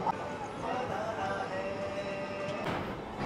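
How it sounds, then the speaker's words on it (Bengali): An EMU train on the Howrah line overtakes the Sealdah–Asansol Intercity Express, a steady broadband rumble and rail hiss heard from on board, holding at an even level throughout. "শিয়ালদা আসানসোল ইন্টারসিটি এক্সপ্রেসকে ওভারটেক করছে আমাদের ট্রেন"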